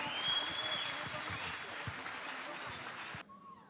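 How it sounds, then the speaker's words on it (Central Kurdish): Audience applause at a Yalda night gathering, moderately loud and steady, stopping abruptly near the end, with a brief voice afterward. "بە چەپڵەکانتان هاوڕێی کاک سوارە بن"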